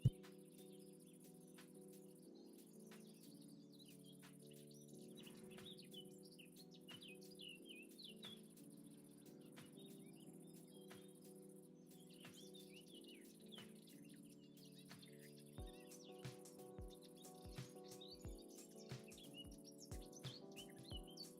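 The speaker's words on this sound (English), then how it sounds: "Love the ambient sounds, the birds tweeting in the background." Ambient birds in the video game Minecraft, faint scattered tweets and chirps over soft, sustained background music that runs throughout.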